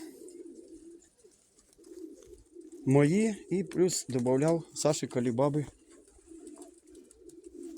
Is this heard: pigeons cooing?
yes